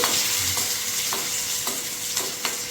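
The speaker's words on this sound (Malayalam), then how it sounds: "അപ്പം നമ്മുടെ ഉള്ളി മൂത്തുകൊണ്ട് വരുന്നുണ്ട് കേട്ടോ കരിയാൻ പാടില്ല" Small onions and green chillies fry in a pan, a loud steady sizzle with regular stirring scrapes about every half second, no voices.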